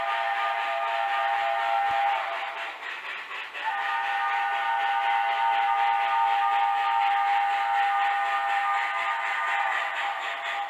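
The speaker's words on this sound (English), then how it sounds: "I'll show you what the actual whistle sounds like." An MTH HO-scale NYC Hudson model steam locomotive whistle sounds in two long, steady, high-pitched blasts with a brief dip between them, loud and clear with no talking.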